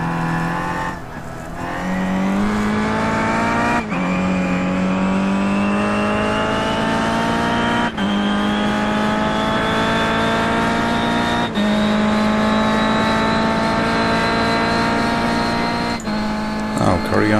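Race cars in the iRacing sim, Kia cars at Mid-Ohio, rev hard through a chicane, with engine pitch climbing and dropping at each gear change and a voice talking over the steady, loud engine drone.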